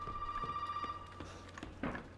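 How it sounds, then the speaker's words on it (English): A telephone rings inside the video game Resident Evil 7, a faint electronic ring tone sustained for about a second over quiet game ambience, with a couple of soft knocks after it. "Oh, phone call."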